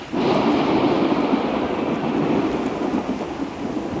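A thunderstorm sound effect plays during a tabletop RPG session: steady heavy rain with a deep rolling thunder rumble that fills the whole stretch at an even, loud level, and no voices are heard.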